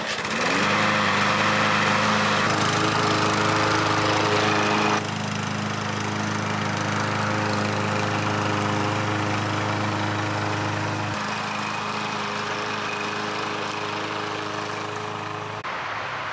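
A petrol lawn mower runs steadily close by, its engine drone loud and constant as it pulls a homemade drag lawn striper across grass, the pitch shifting slightly partway through.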